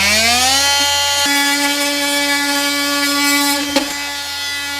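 A power saw cuts through a wall panel, a steady high-pitched whine with a rising pitch at the start that holds loud and close for several seconds, then catches and drops off near the end.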